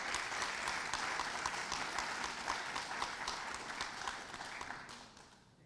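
Sustained applause from an audience at a wartime service medal ceremony in Fairfield, Connecticut, greeting a medal recipient; dense, steady clapping that fades toward the end.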